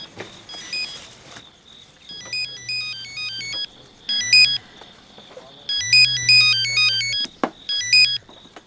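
A mobile phone ringtone plays a bright electronic melody in repeating bursts, loud and close, with short pauses between phrases.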